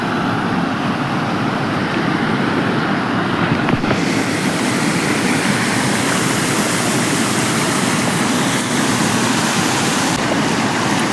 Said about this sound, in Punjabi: ਇਧਰੋਂ ਪਹਾੜ ਚੋਂ ਪਾਣੀ ਆ ਰਿਹਾ